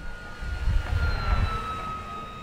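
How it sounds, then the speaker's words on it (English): A BlitzRC Mk24 Supermarine Spitfire RC plane, a 1100mm model, buzzes at full throttle overhead with a steady high electric whine and a rumbling, fluctuating drone from a moderate distance. "That's full throttle."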